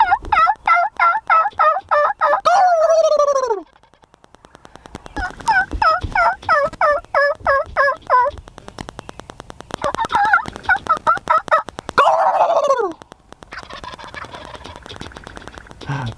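Wild turkey toms gobble repeatedly outdoors in spring, loud rapid rattling bursts answering one another, with people talking quietly between the calls.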